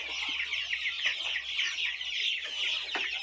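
Chicks cheep and peep constantly in a dense, busy chorus, with occasional sharper squawks standing out as the flock of nearly 200 squabbles over worms.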